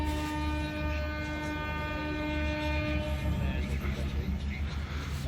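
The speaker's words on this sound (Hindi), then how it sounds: "तो हॉर्न बजाए, पता नहीं हमारी ट्रेन का बजाए या किसी और ट्रेन का बजाए।" A long, loud train horn blares continuously over the rumble of rail cars, with a faint voice murmuring underneath.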